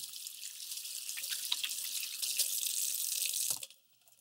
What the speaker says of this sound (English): be sure to wash your hands and prepare the injection site